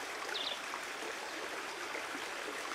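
A stream of water flows steadily near a riverside spot at Cuchi Corral, Córdoba, a soft continuous rushing and trickling wash at a faint, even level with no talk.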